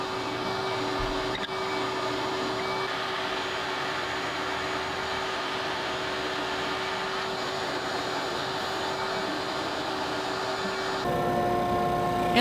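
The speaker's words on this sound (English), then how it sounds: "I'm going to use a Forstner bit and remove as much of the center material as I can before going to the router." A Forstner bit drills out the centre of a wooden bowl blank in a woodworking shop, giving a steady, loud, continuous whirring drone that shifts pitch slightly near the end, with no talking.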